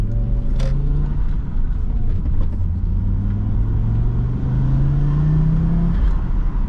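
An Audi RS2 Quattro with all-wheel drive accelerating, its engine note climbing in pitch through two long pulls with a gear change between them, loud and close over a steady road rumble.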